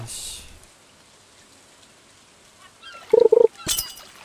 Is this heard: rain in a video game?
yes